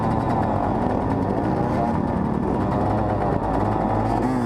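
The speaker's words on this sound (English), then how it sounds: "Someone's getting mad, so they're revving their bike" A dirt bike engine roars continuously during a woods race, a loud, close, rough drone with no pauses.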